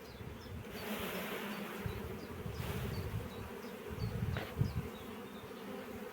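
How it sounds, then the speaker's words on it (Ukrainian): Many honey bees buzz steadily close by at an apiary hive, a dense continuous drone with individual insects flying past now and then. "Дуже багато бджоли."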